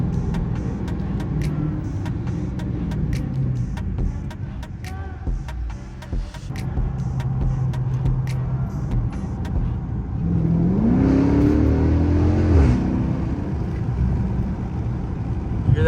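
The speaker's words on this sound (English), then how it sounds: "just hear a little bit more exhaust sound" A muscle car with a 5.7 engine drives at night, its exhaust a continuous low rumble with some intermittent clicks. Partway through the engine note swells and rises as the car accelerates, then settles back again.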